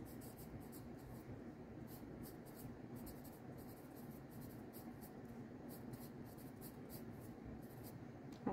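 Pencil or pen writing names near the bottom of a sheet of paper for a fall landscape drawing, a faint continuous scratching with short rhythmic strokes, close and quiet with no talk.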